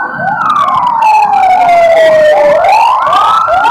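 Ambulance siren wailing loudly and close, its pitch sweeping down slowly and then switching to quicker rising yelps, with road traffic underneath.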